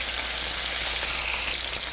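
Chicken thigh meat frying in a pan, browning as it cooks; a steady, dense sizzle holds evenly throughout with no talk over it.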